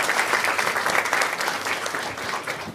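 An audience at a talk held at Google Gurgaon claps steadily at close range, a dense, fairly loud burst of applause lasting a few seconds.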